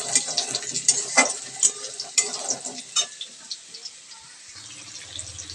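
Paneer and spices sauté in a pan, giving a steady close sizzle with scraping stirs that fade toward a quieter tail, a faint low hum left near the end.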